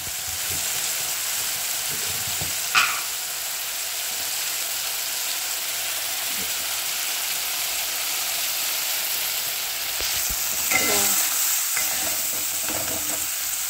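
Okra frying in a pan with salt and turmeric for bhindi masala, giving a steady, bright sizzle that runs throughout, with a few clinks and scrapes of stirring near the start and toward the end.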